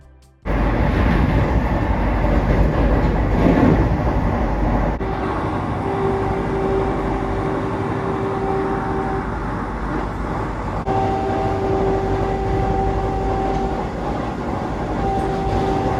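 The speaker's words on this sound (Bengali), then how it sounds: "পুরী হাওড়া বন্দে ভারত এক্সপ্রেসে দেখো ট্রেনের স্পিড 130 কিলোমিটার/আওয়ার্স" The Puri–Howrah Vande Bharat Express running at 130 km/h, heard from inside as a loud, constant rolling rumble and rush of wheels and air, with a faint steady whine above it and no break throughout.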